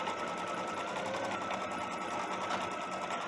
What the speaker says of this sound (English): my machine is sewing this out